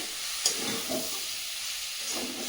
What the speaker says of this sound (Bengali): মশলাটা কষিয়ে নিয়েছি, সেদ্ধ করে রাখা আলুটা দিয়ে দেবো।